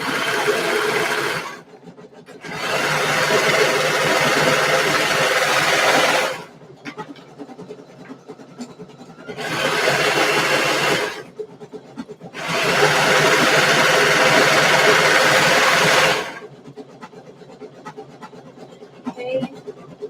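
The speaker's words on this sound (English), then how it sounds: "So back to the serger." Serger sewing machine stitching fabric, running in two long bursts separated by pauses with only faint handling noise, loud and close throughout.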